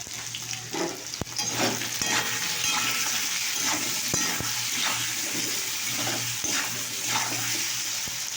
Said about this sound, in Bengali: এবারে আমি নাড়াচাড়া করছি।